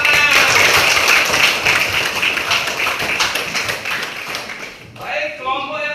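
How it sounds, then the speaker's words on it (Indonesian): A classroom group claps for a team after a presentation, a dense burst of hand claps that thins out and fades near the end as a voice begins speaking. "Berikan tepuk tangan."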